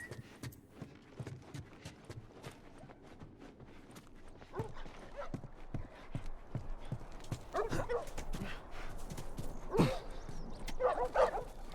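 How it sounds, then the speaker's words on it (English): A dog barks repeatedly in The Last of Us video game, with irregular sharp barks alongside footstep-like clatter, growing somewhat louder toward the end. "Woof, woof, woof, woof, woof."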